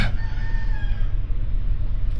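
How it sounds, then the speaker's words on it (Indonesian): A rooster lets out a single loud, close crow that starts strong and trails off over about a second, leaving low background noise behind. "ayo mau kukuruyuk lagi"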